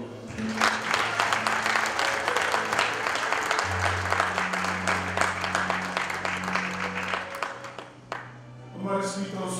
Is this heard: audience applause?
yes